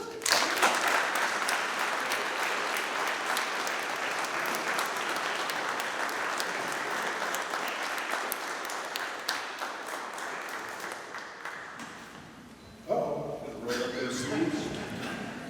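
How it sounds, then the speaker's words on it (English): Graduation ceremony audience at a maritime institute giving sustained, dense applause that fills the hall for about twelve seconds, then fades as a voice begins speaking near the end. "So without further ado, a huge round of applause for Al Keith."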